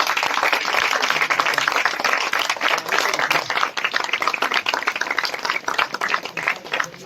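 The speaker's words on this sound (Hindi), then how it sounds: "एक बार जोरदार तालियों से स्वागत किया जाए।" Loud, sustained applause from a large audience at a welcome ceremony in Mau, Uttar Pradesh, many hands clapping in a dense, lively roar that continues for several seconds.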